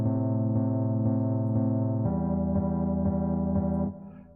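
A Scarby Mark 1 bass synth with heavy EQ in a film score plays a steady sustained low tone pulsing in even half-second beats, shifting pitch midway before fading out, alone with no voices.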